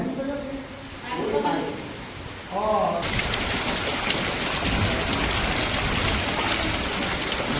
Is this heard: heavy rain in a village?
yes